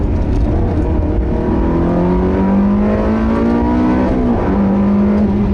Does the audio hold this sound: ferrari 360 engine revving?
yes